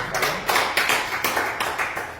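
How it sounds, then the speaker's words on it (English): A small workshop audience gives Jasim Buheji a short round of applause at the SIAS Vision Alignment Workshop, clapping in a quick, fairly even rhythm for about two seconds. "Let's give applause for Jasim."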